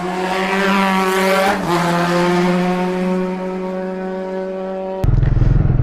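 A Triumph Speed 400 motorcycle accelerating, its engine note rising through the revs, dipping briefly at a gear change and climbing again, before cutting abruptly to a rougher low rumble, loud and close throughout.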